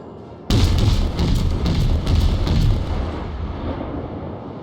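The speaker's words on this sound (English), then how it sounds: "it's quicker to send out an entire broadside in case you get lucky." A warship in World of Warships fires a full broadside: a sudden loud booming volley of several overlapping heavy gun blasts over about two seconds, then a long rumbling decay.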